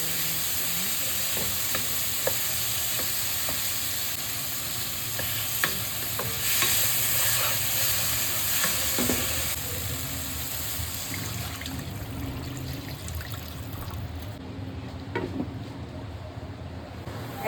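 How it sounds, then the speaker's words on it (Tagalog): A pot of tomato broth bubbles and sizzles steadily on the stove, with occasional stirring clinks against the pot, close by and fairly quiet. "Naluto na siya. Kumukulo na siya."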